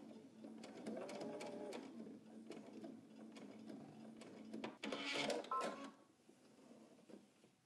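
A sewing machine stitches a jacket lining and welt, its rapid mechanical whirring running in bursts with short pauses and a brief louder rattle near the end; faint, with no speech.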